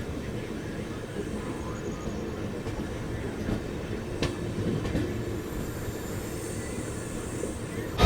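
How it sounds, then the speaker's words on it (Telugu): Simhadri Express LHB passenger train running on rails, a steady rolling rumble with faint rhythmic clicks and a few sharp wheel knocks, heard from on board at moderate level without talk. "సో బండి అయితే ఇప్పుడే కృష్ణ కెనాల్ దాటిందండి."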